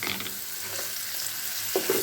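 Steady, crackling sizzle of finely chopped curry leaves frying in hot oil, close and fairly quiet, with a couple of brief spits near the end.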